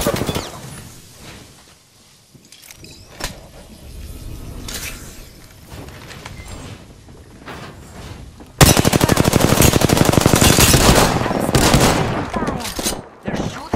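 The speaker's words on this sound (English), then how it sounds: "They're shooting at me?" Gunfire in the Apex Legends video game: scattered single shots and short bursts, then a loud sustained automatic burst in the second half, with voices talking amid the shooting.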